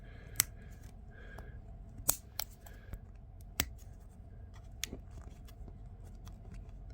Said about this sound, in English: Cut these fender wells off, because we already know that those are going to have to go